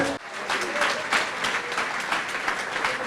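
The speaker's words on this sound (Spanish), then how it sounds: "Denle un aplauso fuerte al Señor" A church congregation claps enthusiastically, dense steady applause filling the space for a few seconds.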